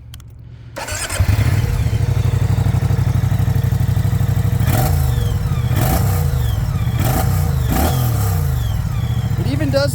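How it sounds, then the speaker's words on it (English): A Moto Guzzi V100 Mandello V-twin motorcycle starts up close by, then idles with a loud, throbbing, lumpy beat, and the throttle is blipped in several short revs. "that is a Moto Guzzi V100 Mandello"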